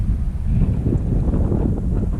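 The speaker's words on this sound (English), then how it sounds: "So, what do you think about that wind, bro?" Strong gusts of wind blowing around a tall tree, a loud, rough rumble buffeting close to the microphone, steady throughout with no voices.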